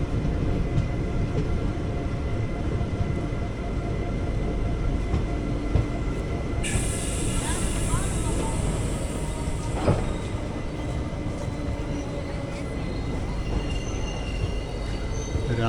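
The 06061 Summer Special Express at Rajapalayam station, with a steady rumble of rolling wheels and carriages, faint clicking over rail joints, and a sharp high squeal entering midway and lingering as the train moves.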